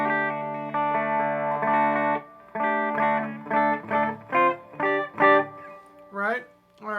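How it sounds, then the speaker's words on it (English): Clean electric guitar through a Fender Deluxe Reverb tube amp on the bridge pickup: sustained strummed chords at first, then a run of separate picked notes and short phrases, close and clear. "I'm just playing through my Fender Deluxe Reverb clean, you know, bridge pickup."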